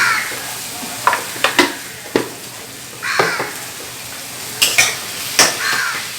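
Paneer pakora stuffed with prawn frying in a pan, a continuous sizzle broken by several sharp scraping and stirring knocks of a utensil against the pan, close and fairly loud, with no talking.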